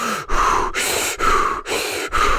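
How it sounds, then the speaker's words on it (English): A person pants hard after running, with rapid, loud, rhythmic breaths in and out, about five cycles heard close up with no talking. "put my hands on my knees, and I'm panting."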